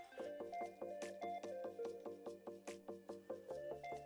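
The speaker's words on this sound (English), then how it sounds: "beat it vigorously with your spoon like your life depends on it" A spoon beats mashed potatoes with butter, salt and pepper, making a fast, regular run of soft wet squishes and slaps, close and steady throughout.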